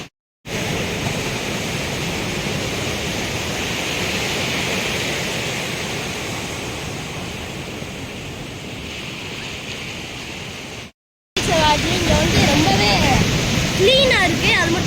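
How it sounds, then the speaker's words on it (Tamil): Sea waves breaking on Varkala beach in Kerala, a continuous loud wash of surf broken by a brief cut, with someone speaking faintly under the roar near the end. "இந்த கடல் சத்தம்"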